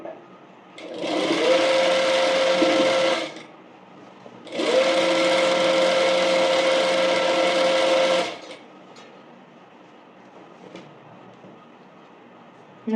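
A sewing machine stitches an umbrella frock in two sustained whirring runs of about two and three and a half seconds, separated by a short pause, then falls quiet apart from faint handling sounds.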